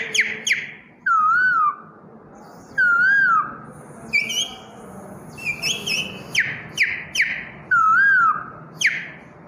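A man imitates the call of a koel, repeating swooping whistled notes in several loud bursts with short gaps and sharp clicks, close to the listener.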